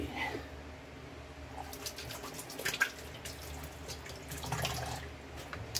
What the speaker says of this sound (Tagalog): maghugas tayo ng kamay